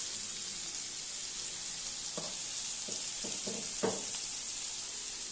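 Pointed gourd (potol) frying in plenty of oil, a steady soft sizzle running throughout, with a few brief stirring scrapes near the middle.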